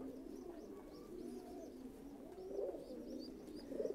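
Thai pigeons kept on a farm coo softly in low, repeated calls, with a few louder coos near the end over quiet background murmur.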